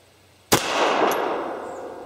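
A Beretta 84 Cheetah pistol fires one Winchester 95 grain full metal jacket round: a single sharp, loud report, followed by a long ringing decay and a faint clink shortly after.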